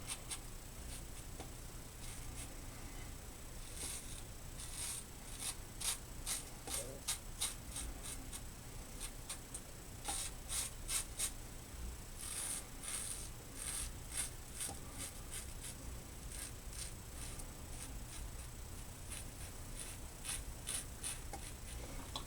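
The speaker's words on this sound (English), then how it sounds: "the less whiskers you hear being cut, the less whiskers there are" Steady fine scratching of a Gem-style Ever Ready safety razor cutting through whiskers in close, quiet strokes, coming in short repeated rasping bursts over a soft background hiss.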